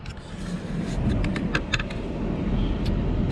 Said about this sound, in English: Eric and I are just driving into Glacier National Park, coming in the west side